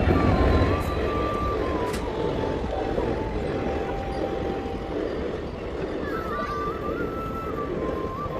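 A train runs past on a railway line near a station, producing a steady, loud rolling rumble with drawn-out tonal whines, heard close by and without clear talk.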